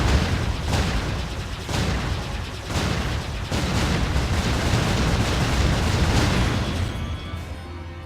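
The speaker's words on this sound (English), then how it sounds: "Our flight was great fun. Lots of explosions." Video game explosions rumble through a flight sequence in Jade Empire: a dense, continuous roar of booms with several sharper bursts at roughly one-second intervals, loud and sustained, fading slightly near the end.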